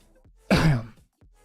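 A single short cough or throat-clearing burst close into a microphone, loud and abrupt for about half a second, alone against near silence.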